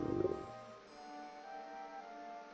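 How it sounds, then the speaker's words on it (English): A short, low gurgling stomach growl in a video game, loud at first and then fading into a quiet, steady background tone. "Was that my stomach?"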